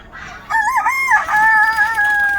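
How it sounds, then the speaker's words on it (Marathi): A chicken crows loudly and close by in the evening at a poultry shed, a drawn-out tonal call with wavering pitch, amid faint background clucking. "आता थोड्या राहिल्यात कोंबड्या. त्या निश्चितच जातील."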